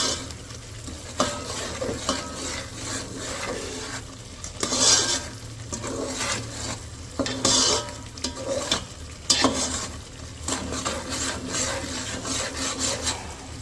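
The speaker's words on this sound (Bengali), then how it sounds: "এই যে এ পাশে সব গুঁড়া মশলাগুলো দিয়ে দিচ্ছি, মশলাগুলো একটু কষাই নিই।" Ground spices frying and being stirred in a pan, with a steady scraping sizzle and repeated louder spatula rubs and clacks against the metal through the whole stretch, no voices.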